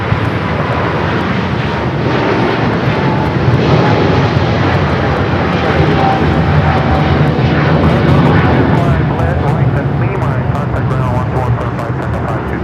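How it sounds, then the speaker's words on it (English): A Philippine Airlines Boeing 777-300ER departs Los Angeles International Airport for Manila, its engines a loud, steady broadband roar held throughout, with faint voices murmuring underneath. "This is Philippine Airlines 113 taking off to Manila on the 777-300ER Mabuhay."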